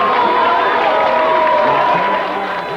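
Eagles fans in a large crowd at Super Bowl XXXIX in 2005 cheer and shout in a dense, continuous roar that stays loud and close throughout, easing slightly near the end.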